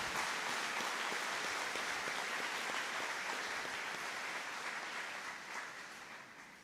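Round of applause from the crowd at a high school graduation ceremony, a broad, steady wash of many hands clapping that holds evenly and then tapers off near the end.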